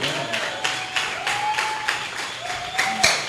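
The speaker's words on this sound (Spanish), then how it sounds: "un aplauso para ellos" An audience claps at a talk, with rhythmic, moderately loud applause running under a sustained tone for a few seconds.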